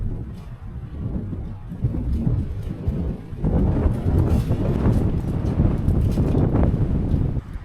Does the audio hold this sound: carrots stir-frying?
no